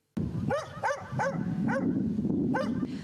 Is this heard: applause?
no